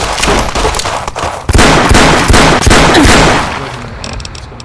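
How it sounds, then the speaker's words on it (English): Rapid bursts of loud video game gunfire crack in quick succession, some volleys overlapping, then the shooting tapers off into quieter background. "Those gunshots are so loud."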